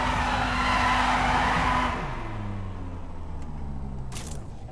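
A Dodge with a V8 engine in the racing game The Crew on PC: a loud rushing tire skid that fades after about two seconds into a lower, pitch-shifting engine drone, ending with a short sharp scrape.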